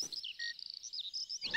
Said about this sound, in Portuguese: Que pássaro será que faz um som assim?